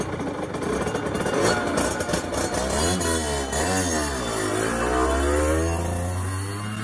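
Borrowed motorcycle engine running loud and close, with a throaty idle that rises into revving and falling pitch sweeps, a steady low drone underneath throughout.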